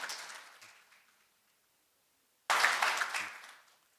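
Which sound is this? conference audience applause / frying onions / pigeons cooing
conference audience applause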